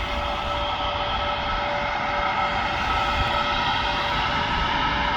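Jet engines of an Air Transat airliner at an airport roar in a steady, loud, unbroken drone with a high whine on top, heard from a viewing area with no talk.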